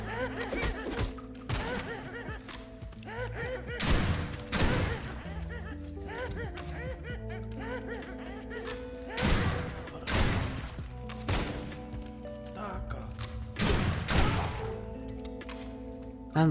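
Shotgun blasts in a video game, several heavy booming shots at irregular intervals over a constant music bed, with voices talking throughout.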